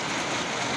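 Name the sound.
rain still falling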